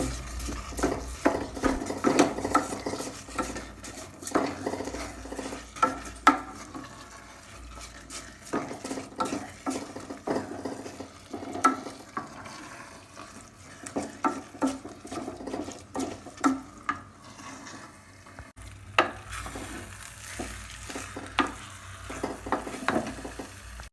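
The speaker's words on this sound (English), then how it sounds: "you get your ladle to stir to make the stew and rice unify" Irregular scraping and wet clinks of a ladle stirring thick stew and rice for jollof rice in a pot, close and moderately loud, with a soft bubbling background.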